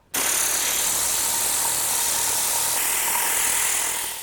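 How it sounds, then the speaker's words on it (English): Loud, continuous blast of an air compressor's air tool blowing onto fabric car mats, starting abruptly and holding a steady harsh hiss with a low rumbling undertone, close and with no voices. "get my air compressor"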